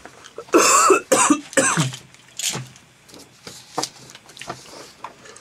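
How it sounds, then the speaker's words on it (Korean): Several sharp coughs and throat clearings come in close bursts early on, followed by softer scattered coughs and small noises, close to the microphone in a quiet studio. "기침 나잖아"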